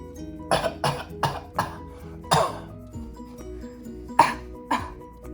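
A series of short, sharp staged coughs repeats about every half second, with a louder cluster in the middle and a few more near the end.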